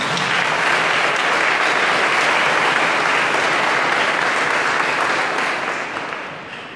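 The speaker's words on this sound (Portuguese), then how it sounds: "agradeçamos com uma salva de palmas." A congregation at a Catholic Mass bursts into a loud, sustained round of applause that holds steady for several seconds, then begins to fade at the end.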